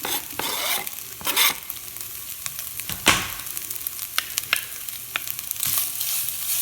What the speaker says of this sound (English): There's nothing like Spam sizzling, even if it is turkey Spam.